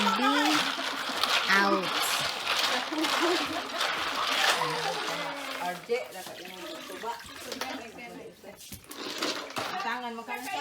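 Clams being washed under running water, with continuous splashing and trickling close by and frequent clattering of shells, while people talk over it throughout.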